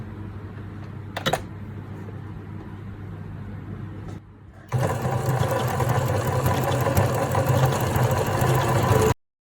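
A sewing machine runs an overcasting stitch straight along scrap fabric. A few short clicks and a brief pause come first, then a continuous loud mechanical whir runs for about four seconds before it stops abruptly.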